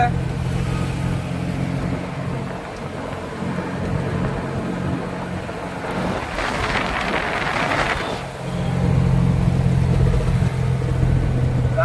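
A vehicle engine hums steadily while driving on the Khandala Ghat mountain road, with a rougher surge of road noise in the middle before the drone settles again.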